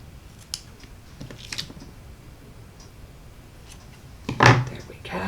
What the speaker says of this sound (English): let me get my ribbon scissors